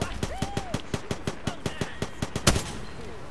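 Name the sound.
gunfire in Apex Legends video game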